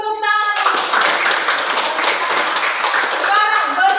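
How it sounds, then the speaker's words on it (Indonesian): A classroom of students applauds in a steady burst of clapping that lasts several seconds, with a teacher's voice briefly heard at the start and end. "Ya bagus, tepuk tangan."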